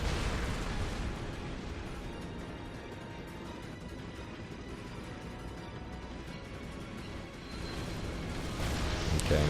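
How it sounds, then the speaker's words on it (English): A big explosion in the action game Ninja Blade rumbles loud and sustained, dense booming debris and roar filling the mix, swelling again toward the end, with no talk over it. "That's a big old explosion right there."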